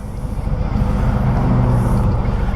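Loud, dense rumble of passing cars on a road, heard from a motorcycle rider's helmet, a continuous low drone with no break and no voices.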